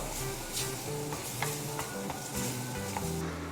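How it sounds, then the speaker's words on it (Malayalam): Spice powders, including turmeric, frying in a pan for a crab curry, with a constant close sizzle and soft scraping stirs throughout. "ഈ പൊടികളുടെയൊക്കെ പച്ചമണം മാറുന്നവരെ ഇളക്കി കൊടുക്കുക കേട്ടോ."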